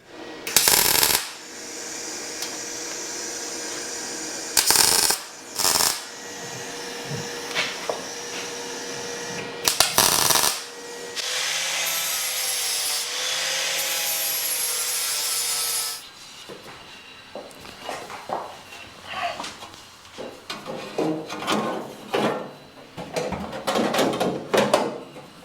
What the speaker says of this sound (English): I'm polishing in the same direction all the time.